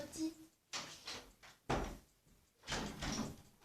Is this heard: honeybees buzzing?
no